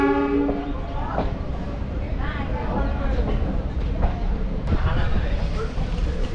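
A local train pulls out of Malda station, its engine hum and wheel noise rolling steadily and close beneath ongoing chatter, with a brief horn-like tone at the start.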